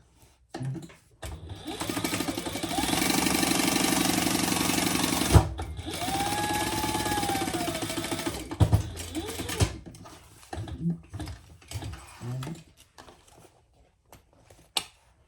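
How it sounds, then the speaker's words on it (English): A sewing machine top stitches a folded pocket flat in several bursts, a long steady run of fast mechanical whirring followed by shorter starts and stops, with quiet gaps and light handling noise between them. "fold that over and top stitch it flat"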